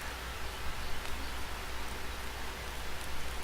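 Steady rain in the survival video game The Forest, a continuous broadband hiss of falling drops heard alone at an even, moderate level throughout.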